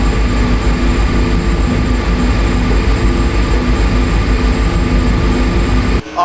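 A PRR V2 Santa Fe Express locomotive in a video game accelerating at 55% throttle, a steady loud rumbling drone with constant low hum and rail noise throughout, briefly dipping at the very end.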